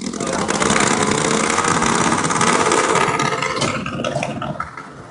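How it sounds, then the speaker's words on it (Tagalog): A motorcycle engine idles loudly and close at a New Year celebration outside Lucky Chinatown, giving a steady broadband rumble that fades slightly near the end. "Ang ingay ng motor."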